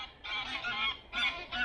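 Geese honk beside a UK river during trout and grayling fly fishing, giving a few nasal, overlapping calls in two close bursts against quiet water ambience.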